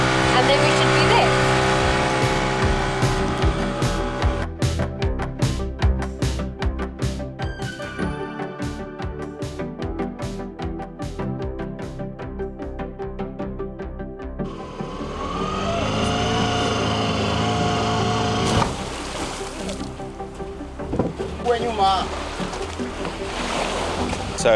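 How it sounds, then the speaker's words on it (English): A small, slow boat carries passengers across the water to Changu Island off Zanzibar, its engine droning steadily with wind and splashing water, while people talk over it. "And the little boat doesn't seem that it can go very fast"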